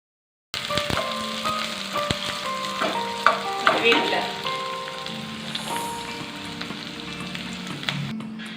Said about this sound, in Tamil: கடுகு போட்டுக்கலாம். கடுகு பொரிஞ்சு வந்ததும்